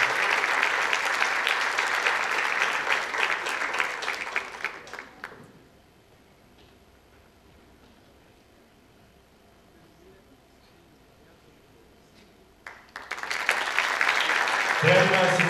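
An audience at a Turkish theatre festival event applauds loudly to welcome a speaker to the stage, then falls quiet for several seconds before a second burst of clapping begins.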